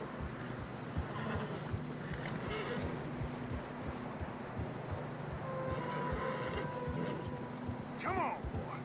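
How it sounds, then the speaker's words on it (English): Horses trudging through fresh snow in the Red Dead Redemption 2 video game, a low, muffled plodding of hooves with snorts and a brief whinny, mixed under game ambience and character dialogue. "Horses are struggling."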